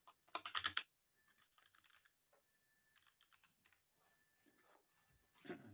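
Quick bursts of keystrokes on a computer keyboard, close and clear, starting with a dense flurry and continuing as lighter irregular taps over a faint steady hum, with no voices.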